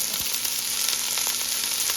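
Chopped onions fry for minestrone soup, giving a loud, continuous sizzle with scattered crackles throughout. No voices are heard.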